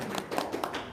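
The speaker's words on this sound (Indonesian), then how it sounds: "Tepuk tangan dulu dong, sembuh." A small group claps for a few seconds of light, scattered hand claps at a moderate distance, fairly faint, with no talk.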